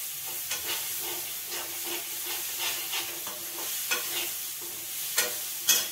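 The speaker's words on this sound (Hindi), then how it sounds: "ये चना तल गए हैं" Chickpeas frying in hot oil for a communal feast, a steady sizzle and hiss broken by repeated scraping strokes of a stirring spoon against the pan, close and continuous with a few louder clanks toward the end.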